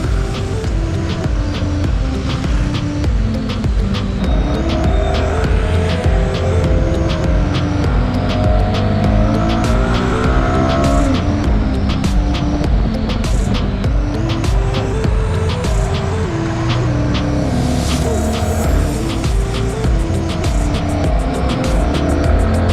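A car on a road speeds past with a loud, sustained engine roar and shifting pitch, close to the microphone and heard over steady road and wind noise, with no talk.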